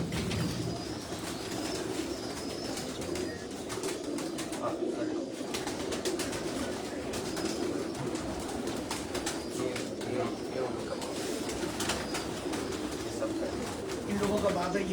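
Teji pigeons coo steadily on a rooftop, a low murmuring chorus close by, with occasional wing flaps and clicks and people talking over it.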